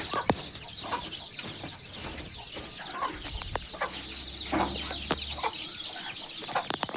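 Chickens in coops at the edge of a village farm cluck and chatter continuously, several birds close by, with brief scattered clicks and knocks around them.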